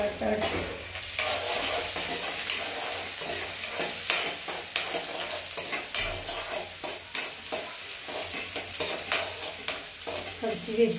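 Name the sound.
stirring semolina upma with peas in a frying pan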